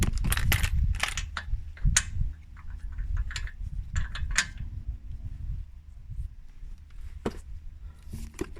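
Wheel nuts being snugged lightly while swapping tires on a Nissan Qashqai: a few short metallic clicks and knocks over a low, steady rumble, close and moderately loud, with no talking.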